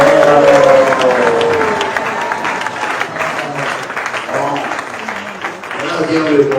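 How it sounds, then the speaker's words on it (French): Congregation applauding and acclaiming at a church wedding ceremony, with sustained clapping and crowd noise filling the space and a voice audible over it. "tout le monde acclame le Seigneur en disant Amen, Amen, Amen"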